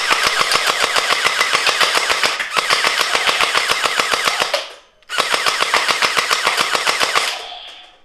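PIXNCOUS Mini M416 top-loader gel ball blaster firing on full auto, with two loud, rapid, evenly spaced bursts of mechanical shots separated by a short gap, trailing off at the end.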